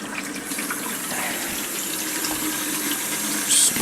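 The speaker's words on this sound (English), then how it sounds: "fill us up a bucket of nice hot soapy water, just so we know everything's sterile." Hot soapy water runs from a tap into a bucket in a steady, hissing rush that holds at the same level throughout, with no voices.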